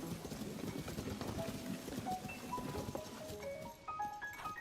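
Rapid video-game horse hoofbeats clip-clop in a steady, continuous rhythm, joined by a few bright melodic tones near the end.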